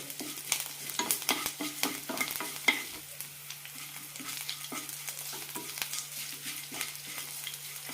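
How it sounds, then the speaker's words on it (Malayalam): Semiya mixture being stirred and sautéed with asafoetida in a pan for a curd semiya breakfast dish, giving a steady close scraping and light sizzling throughout, with a constant low hum beneath and no voices. "ഒരു മിനിറ്റ് നന്നായി വഴറ്റി കൊടുക്കാം ഇനി ഇതിലേക്ക് കുറച്ച് കായപ്പൊടി കൂടി ചേർക്കാം അര ടീസ്പൂൺ ഇടുന്നുണ്ട് നന്നായി മിക്സ് ചെയ്യാം"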